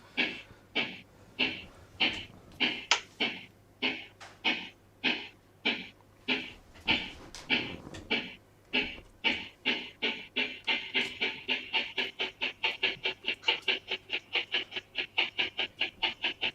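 A model railway engine chuffs along the track with a steady train of sharp, evenly spaced puffs that quicken toward the end, close and clear with a faint hum underneath.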